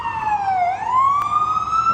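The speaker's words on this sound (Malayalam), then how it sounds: "ഇത് നല്ലൊരു ആംബുലൻസ് വരുന്നതാണ് കേട്ടോ" An ambulance siren wails on a New York street near Penn Station: one loud, close tone that swoops down and then climbs again over a low hum of city traffic.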